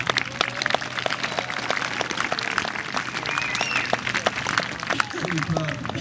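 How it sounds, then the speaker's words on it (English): A crowd claps and cheers steadily throughout, a dense wash of applause with scattered shouts, fairly close and continuous. "So can we please give them a big cheer to drive them on?"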